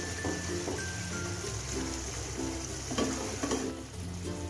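Methi chicken curry is stirred and mixed in a pan with a soft continuous sizzle, with gentle scraping and occasional spoon knocks against the pan, close and quiet.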